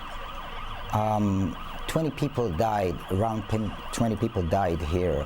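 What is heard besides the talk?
store burglar alarms on a Jerusalem street, triggered by bomb blast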